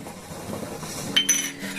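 A bowl coated with jaggery is rinsed with a little water, giving soft sloshing followed by a few bright clinks of metal or crockery knocking together, close by and fairly quiet, with no voices.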